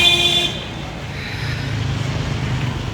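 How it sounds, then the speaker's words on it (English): A car horn toots at the start on a busy street in Conakry, then steady engine rumble and traffic noise continue as vehicles pass close by. "you're just walking down the street dodging cars as they go by"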